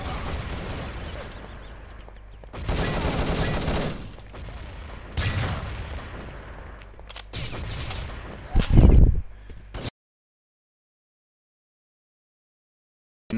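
Bursts of rapid gunfire and grenade blasts from a capture-the-flag shooter match in Urban Zone, several dense volleys over about ten seconds with a heavy boom near the end, then sudden silence.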